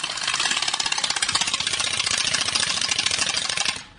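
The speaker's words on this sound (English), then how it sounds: "take a playing card so that it would make this kind of noise" Rapid, steady clattering flutter like a playing card slapping bicycle spokes, loud and close, running evenly for a few seconds before dying away.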